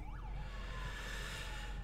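A police car siren wails during a chase in the racing video game Need for Speed (2015), a steady, moderately loud rising-and-falling tone running continuously over a low rumble of engine and road noise.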